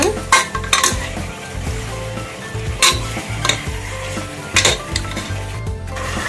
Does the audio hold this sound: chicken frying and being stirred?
yes